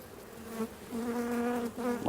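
Honey bees buzz close by at an opened hive as a frame is pulled, a dense droning hum with a steady pitch that swells and dips slightly, agitated and near.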